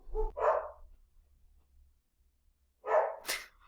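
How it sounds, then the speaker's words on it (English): A dog barks indoors: one short double bark, a pause of about two seconds, then a second bark. Each is fairly loud and close, with a quiet room between them. "My dog won't stop barking."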